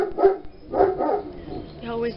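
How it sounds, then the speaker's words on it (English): A dog barks a few times in quick, close bursts, mixed with speech and followed by a short whine. "He always barks."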